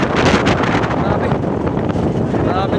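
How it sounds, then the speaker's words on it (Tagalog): Strong wind roars across the microphone over the rushing wash of big Pacific Ocean waves, loud and continuous, while someone speaks. "Lakas ng hangin, lakas ng alon, oh."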